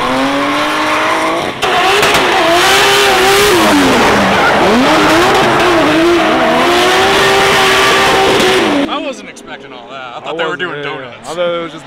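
A car drifting through donuts at a private compound, tires squealing in long wavering screeches over a revving engine, loud and close, then cutting off to quieter sounds with people talking near the end.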